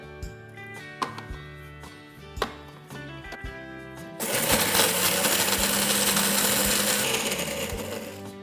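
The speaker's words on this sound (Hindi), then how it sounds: "इसे हम इस चिली के साथ इस मिक्सर ग्राइंडर में डाल देंगे" A mixer grinder blends chilli, garlic, ginger, lemon juice and a dash of water into paste; after a few clinks and knocks, the motor kicks in and whirs loudly and steadily for the last four seconds.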